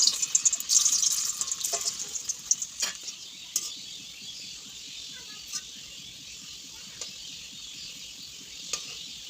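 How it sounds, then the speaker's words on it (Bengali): Semolina rasbora sweet balls fry in hot oil with a bright, hissing sizzle that is strongest at first and then settles to a softer bubbling, with occasional light clinks of utensils. "একইভাবে বাকিগুলোকেও আমি ভেজে নেব।"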